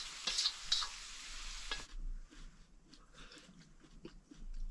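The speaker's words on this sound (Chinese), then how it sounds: "回锅肉炒青椒" Twice-cooked pork with green peppers being stir-fried in a wok, a loud burst of sizzling and scraping stirs at the start, then quieter frying crackle with light clinks continuing to the end.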